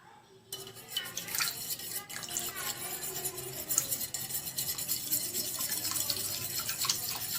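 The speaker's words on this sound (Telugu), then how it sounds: "అందుకని మేము కొంచెం వాటర్ యాడ్ చేస్తున్నాము." Water trickles and splashes into yogurt chutney, a close wet pouring and stirring sound with small drips and clinks running throughout.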